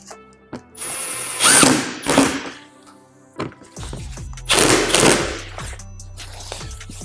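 An impact driver drives screws into a front splitter on a 2018-2019 Ford Mustang, giving loud rattling hammering bursts in two main runs with short pauses and shorter clicks between them, close and with no talking.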